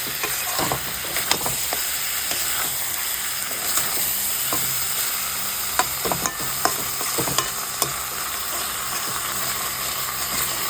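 Mutton is stir-fried in a pan, giving a continuous loud sizzle close by with repeated scraping and clacking strokes of a spatula against the pan, and no talking.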